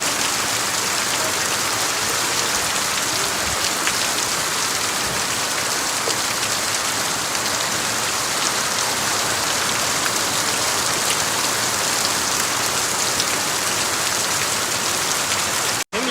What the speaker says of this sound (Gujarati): જો વરસાદ પાછો આવો ગયો